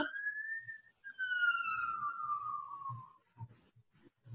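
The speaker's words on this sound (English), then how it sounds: "Do you hear that ambulance coming?" An ambulance siren wails past in a long falling sweep, fading as it moves away, with faint low talk and bumps underneath.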